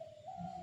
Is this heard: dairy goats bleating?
no